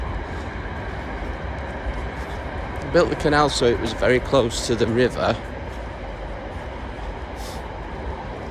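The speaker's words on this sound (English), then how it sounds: "And I can hear the train again." A train runs close beside the Rochdale Canal between Sowerby Bridge and Hebden Bridge, a steady low rumble that continues throughout while someone talks over the middle part.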